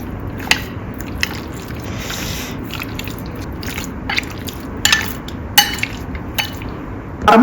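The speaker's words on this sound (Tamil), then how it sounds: "மிளகுத்தூள், சால்ட் நல்லா மிக்ஸ் பண்ணிடுங்க." Boneless chicken being mixed with pepper powder and salt by hand in a bowl, wet squishing and soft squelching under a steady background hiss, with a few sharp clinks.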